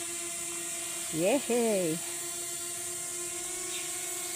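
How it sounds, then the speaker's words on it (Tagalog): Drone flying at a survey marker site in Marinduque, a steady tonal whine of its rotors droning throughout, close and constant, with a brief exclamation from a voice over it. "Drone."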